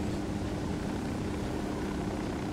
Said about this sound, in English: Yeah, that helicopter's coming back